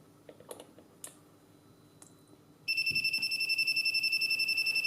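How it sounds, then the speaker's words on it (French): After a few soft clicks and handling noises, an Arduino rain sensor alarm's buzzer starts abruptly and sounds a loud, steady electronic beeping tone, rapidly pulsing, continuing to the end. "je fais activer le buzzer"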